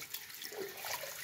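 Soft watery swishing as a shaving brush is swirled through a bowl of hot, soapy water, a brief gentle sloshing and bubbling with no speech.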